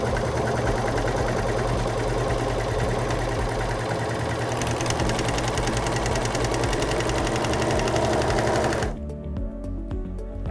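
A Singer S0230 serger sewing a four-thread overlock stitch, a fast, dense mechanical chatter at steady speed close up, stopping abruptly near the end and leaving a quieter hum.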